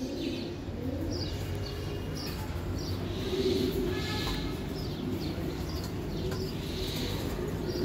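Giribaz racing pigeons, a high-flying breed, cooing steadily in a loft, low rolling coos repeating under a continuous noisy background with scattered faint chirps and no talk.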